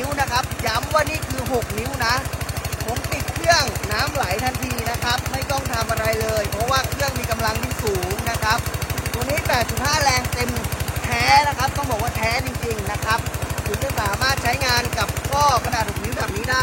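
A small 8.5 horsepower Tomochi gasoline water pump engine runs steadily nearby, its rapid, even chugging continuing throughout with someone talking over it.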